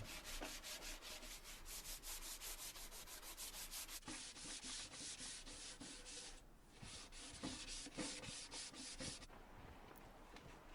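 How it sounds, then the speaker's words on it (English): Piece of pallet wood being hand sanded, a steady rapid back-and-forth rasp of abrasive paper on the surface, close and continuous with a brief pause midway. "Then I gave it a hand sanding to finish it off."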